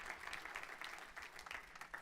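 A church congregation claps together in sustained, dense applause, steady and somewhat distant and soft.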